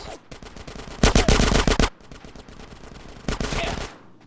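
Dense bursts of rapid automatic gunfire ring out during a gang shootout in GTA San Andreas, a loud volley in the middle and another near the end, with a distant chatter of shots between them.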